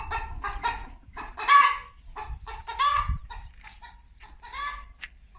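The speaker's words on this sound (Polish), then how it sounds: "nie wiem, czy tą kurę słychać tam" A laying hen clucks repeatedly in short bursts and drawn-out calls, close and fairly loud, with a few quiet pauses between.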